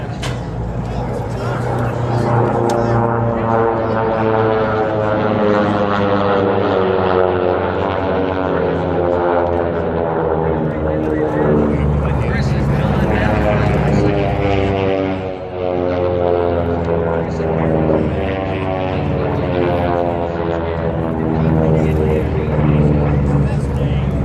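T-6 propeller planes race around the pylons at the Reno Air Races, a loud, continuous radial-engine drone with shifting pitch as aircraft pass, with a commentator talking throughout.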